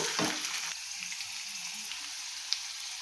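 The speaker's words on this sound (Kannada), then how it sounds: "ನೀಟಾಗಿ ಫ್ರೈ ಮಾಡ್ಕೊಬೇಕು ಎಲ್ಲವನ್ನು" Crushed garlic and cut green chillies fry in hot oil with a continuous bright sizzle, a brief stir or scrape near the start and a small clink later, close and alone without talk.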